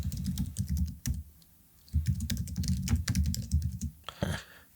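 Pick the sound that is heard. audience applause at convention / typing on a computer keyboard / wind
typing on a computer keyboard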